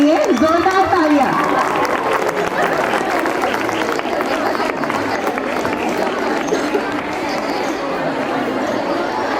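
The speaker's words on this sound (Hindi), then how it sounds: "एक बार जोरदार तालियां" Crowd applauding and cheering at a college sports fest on the opening day of an intercollegiate tournament, a dense, steady roar of clapping and chatter that holds loud throughout, with a voice over the start.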